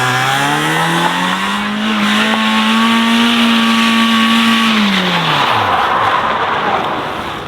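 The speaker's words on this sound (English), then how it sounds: "it's only spinning one wheel" A Mazda MX-5 spins one wheel in snow, its engine revving loud and close, pitch climbing, holding, then dropping as the throttle eases, with tire whine underneath.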